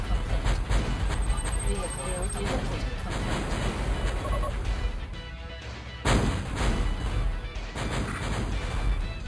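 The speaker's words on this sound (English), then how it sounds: "I can't really hear anything over the sound of the gunshots." Gunshots and artillery fire in the video game Metal Fatigue, a dense run of heavy booms and crashing blasts that pound on continuously, with a brief lull midway before the barrage resumes loudly.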